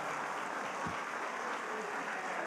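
A church congregation applauding during a sermon, giving brief, fairly faint but steady clapping throughout, with no speech over it.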